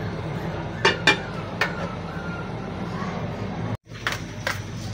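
A metal lid is set back onto a cooking pot of pork pochero: a few light clinks and taps ring out over a steady kitchen hiss, then a brief clatter near the end.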